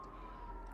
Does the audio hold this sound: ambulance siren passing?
yes